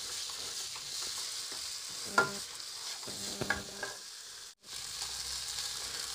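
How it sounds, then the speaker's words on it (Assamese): Green peas and spices fry in a pan in a home kitchen, a low steady hiss with occasional spoon scrapes and taps from stirring, ending in a brief silence before the sizzle resumes. "মোৰ মটৰ আৰু যিখিনি মছলা আছিলে সেইখিনি ভাজা হৈ গৈছে"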